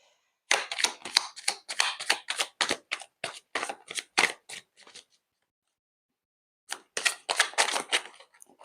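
Playing cards being shuffled up close in a quiet whisper-style setting, a rapid run of crisp riffling flicks, a pause, then another burst, heard alone without talk.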